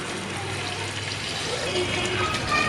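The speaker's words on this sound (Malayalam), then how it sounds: "ഇനി നമുക്ക് ഇതിനകത്തേക്ക് വെള്ളം ഒഴിച്ചു കൊടുക്കാം." Water pours steadily onto banana in a metal pressure cooker, a continuous splashing gush with a hollow ring, close by and fairly loud.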